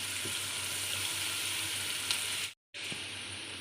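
Onions fry steadily in a pan for white matar pulao, a dense continuous sizzle with faint stirring, briefly cutting out near the end before resuming.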